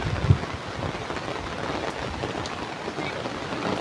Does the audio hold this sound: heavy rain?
yes